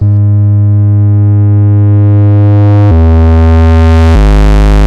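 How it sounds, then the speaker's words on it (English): A loud, buzzy Moog Grandmother synthesizer feedback patch with heavy overdrive holds steady, then jumps to new pitches twice, thick and harmonically rich like a heavily overdriven drone. "if you would now increase the noise, we are also able to create really heavy overdrive sounds"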